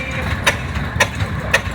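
An early International 5P tractor engine idles at a historical engine show, making a steady low mechanical rumble with sharp periodic clanks roughly every half second.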